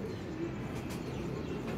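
Pet pigeons coo softly, a low throaty call in a quiet indoor setting with no talk.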